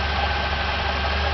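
A Camaro engine, just cured of a cylinder-one misfire caused by a loose spark plug, idles steadily and evenly with a constant low hum and no speech.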